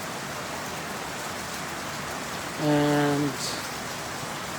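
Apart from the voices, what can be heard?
rain falling on a farm in the evening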